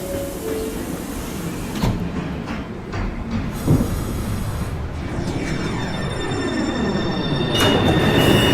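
A southbound Line 2 express on the New York City subway rumbles past loudly, with rhythmic wheel clatter, rising metallic squeals and sweeping tonal whines, close and continuous throughout.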